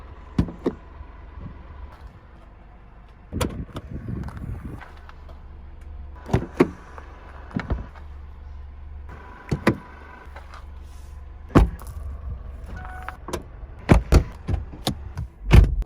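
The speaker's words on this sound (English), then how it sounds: "So let me open the driver door." The driver door of a Mercedes-Benz GLC is worked, giving a series of sharp close clicks and latch thumps spread across the stretch, with quiet cabin hum in between.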